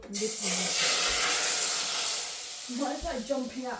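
Loud steady hiss of spices sizzling in hot oil, a tempering for spiced chickpeas, fading slightly as a voice begins talking over it near the end.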